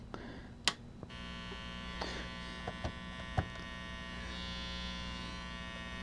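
Steady electrical buzz and mains hum from a loudspeaker connected to a function generator driving a simple color organ circuit, continuous throughout, with a few brief clicks and pops over it.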